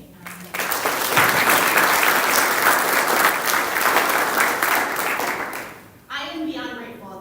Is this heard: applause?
yes